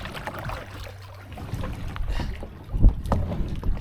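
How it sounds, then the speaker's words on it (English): A kayak scrapes and bumps over a rock in shallow water, with grinding rubs and a sharper knock near the end over wind buffeting the microphone, close up and uneven. "I think I'm just like shaving off bits of this kayak"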